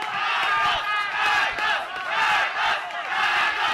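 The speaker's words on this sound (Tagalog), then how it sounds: "And the crowd chanting" A boxing match crowd chants in loud, rhythmic waves of massed voices, filling the arena steadily throughout.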